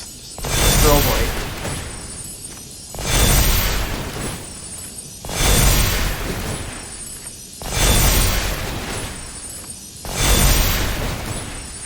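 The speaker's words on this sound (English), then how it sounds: "Fireworks, just strobe light." A fireworks effect in the video game MTG Arena produces five evenly spaced loud bursts, each a booming crackle that swells and fades over about two seconds.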